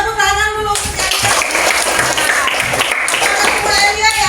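Children clap together in a classroom at a teacher's prompt, a quick bright burst of many small hands in rhythm that starts after a moment of talk and runs to the end.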